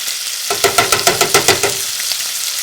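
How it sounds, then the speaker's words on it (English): Chicken hitting a hot pan and sizzling loudly, with a rhythmic series of stirring or scraping knocks over a steady hiss, close up and without talk. "Chicken's in. Hear that sizzle?"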